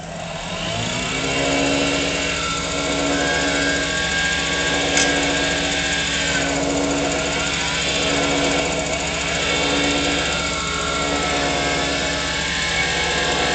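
A wood lathe spins a fountain pen blank at about 4,200 RPM while a round carbide tool makes light passes. It gives a loud, steady, tonal motor whine with a faint cutting texture throughout.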